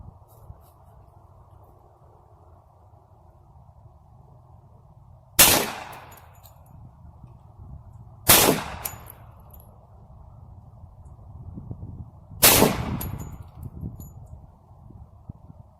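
A Hi-Point pistol fires three single shots at a 15-yard target on a range. Each crack is sharp and loud and spaced several seconds apart, over a low steady background hum.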